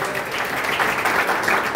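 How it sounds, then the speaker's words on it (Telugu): A church congregation at a Sunday evening service in Poonamalli, Chennai claps loudly and steadily, a dense, continuous wash of applause filling the room for the whole moment. "చప్పట్లు కొట్టండి గట్టిగా."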